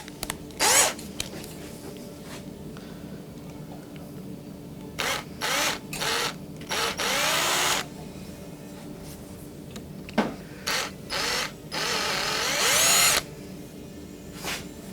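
A power drill bores a 3.5 mm hole during an electric guitar build. It comes as a series of short, close whirring bursts of varying length, separated by brief pauses.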